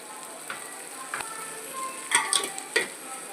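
A spoon stirs biryani in a pot, scraping and clinking against the metal in a few quick strokes over a faint background hiss.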